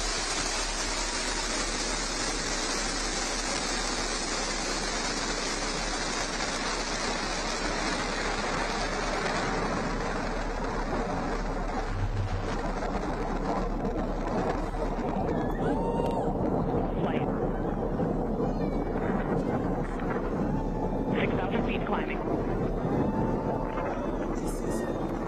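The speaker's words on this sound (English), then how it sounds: "Liftoff. New Shepard has cleared the tower." The Blue Origin New Shepard rocket lifts off on an all-female spaceflight with a loud, broad rushing roar that slowly thins out, while voices and crowd noise rise over it.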